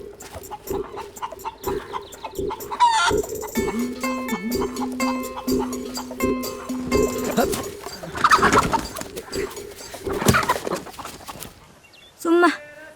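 A rooster and hens cluck and crow around a village yard, scattered bird calls and a drawn-out crow amid voices talking and shuffling activity, with a sharp cry near the end.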